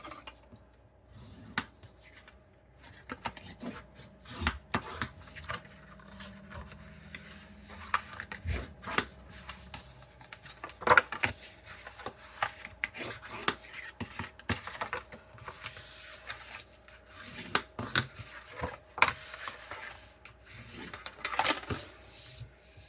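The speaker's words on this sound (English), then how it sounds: "Fold and burnish all score lines." Paper card being folded and burnished along its score lines by hand, a run of soft rubbing swipes and scattered sharp crinkles and taps, close and fairly quiet, with no one speaking.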